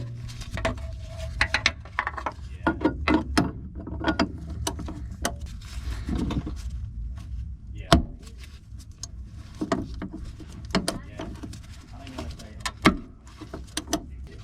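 A ratchet clicks in short bursts while loosening a 19 mm fuel filter banjo bolt on an MK3 Supra, with close mechanical ratcheting and occasional metallic knocks over a low background hum.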